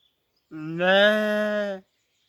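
A human voice imitates a sheep with a single loud, sustained bleat of just over a second, steady and close, with silence on either side.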